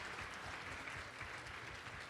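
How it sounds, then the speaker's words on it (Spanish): An audience applauds a teacher at an education conference on inclusive education, with steady, dense clapping held at an even level throughout, fairly soft and somewhat distant. "Pues un aplauso al maestro,"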